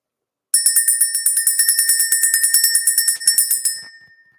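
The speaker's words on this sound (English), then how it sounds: "let's go ahead and ring bell" A small handheld bell is rung rapidly and continuously to clear energy, producing a bright metallic ringing with many quick strikes for about three seconds that ends in a short fading tail, heard alone and close.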